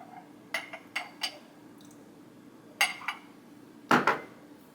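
A metal spoon clinks against the sides of a microwave-safe mug while swirling melted butter, giving several sharp, close taps in small clusters over a quiet kitchen background.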